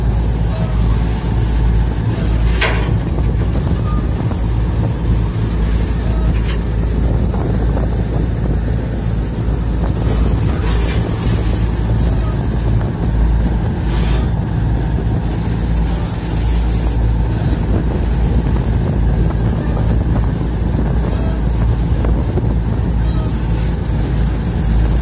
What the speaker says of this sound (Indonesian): Kalian lihat tuh guys, ada kapal yang lalang.